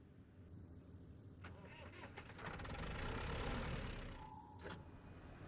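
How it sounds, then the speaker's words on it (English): Turbine semi truck engine in the SnowRunner video game, Z2 Daedalus III mod: a soft, continuous whine and hum that swells in the middle and then eases back, faint throughout. "he has it to where there's like a little bit of an engine sound."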